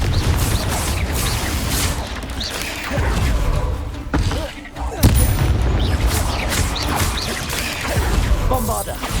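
Confringo fire spells burst in Hogwarts Legacy, repeated loud booms and crashes tearing through a dense battle din with spider enemies, with a short lull midway before more blasts. A voice shouts spell names between the hits.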